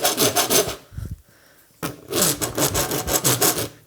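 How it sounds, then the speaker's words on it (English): A round file rasps back and forth in a drill hole that blew out, smoothing it to a radius. The strokes are quick and rhythmic, close and loud, with a brief pause before the filing resumes. "So I can actually get a radius back by filing it with a round file."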